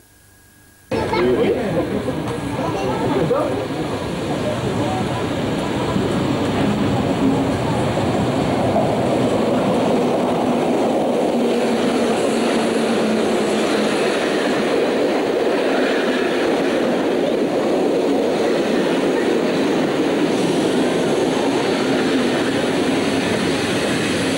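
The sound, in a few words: train entering the station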